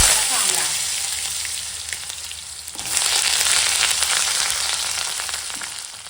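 Dried red chillies and mustard seeds sizzle and crackle in hot mustard oil in a kadai, a loud, steady frying hiss that surges fresh about halfway through.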